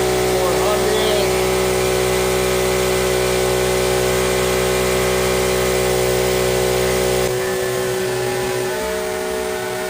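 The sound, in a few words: two-stroke generator engine running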